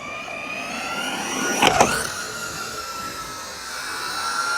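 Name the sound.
FTX RC truggy motor at full throttle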